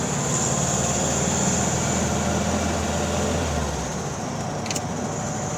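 A 1966 Volkswagen Beetle with a 1300 cc engine drives along while shifting gears, giving a steady, droning hum of engine and road. A low tone drops away partway through, and a faint short click comes near the end.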